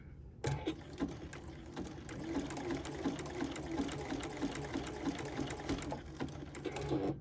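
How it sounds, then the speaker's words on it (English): A sewing machine stitching an appliqué onto fabric, a steady close whirring needle rhythm that starts abruptly and runs continuously with slight pauses and speed changes. "And then I'm going to start sewing."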